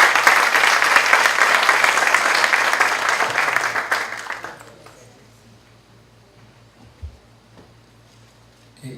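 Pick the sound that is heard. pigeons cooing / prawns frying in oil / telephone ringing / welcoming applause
welcoming applause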